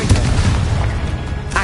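Spell explosions from Bombarda and Confringo in the game Hogwarts Legacy on PS5, a loud, dense run of booming blasts that fills the short stretch without a break.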